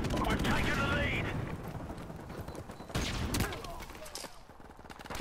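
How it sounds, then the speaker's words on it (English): Three-round burst gunfire in a video game: rapid clusters of sharp shots and mechanical clatter, fairly loud, with a person talking over part of it. "I need to get that three burst, because apparently that three burst is doing damage."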